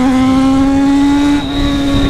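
An XJ motorcycle engine revs hard and steadily up close on a cold-weather ride, holding a loud, sustained droning note with a slight dip in pitch partway through.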